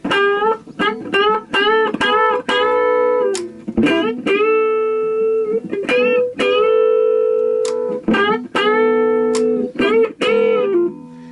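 Electric guitar on its neck pickup plays a quick melodic run of clean, sustained single notes with a soft, rounded, flute-like tone, no talking.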